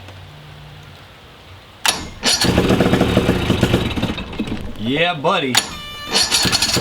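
A 1984 Mercury 35HP two-stroke outboard engine fires up after a quiet start and runs loud and close, its revs rising and falling as the throttle is opened a little, with someone speaking briefly over it.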